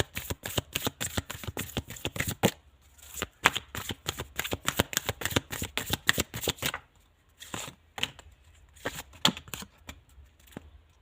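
Tarot cards being shuffled in a run of rapid crisp riffling bursts, with short pauses between batches near the end, close and alone with no talk.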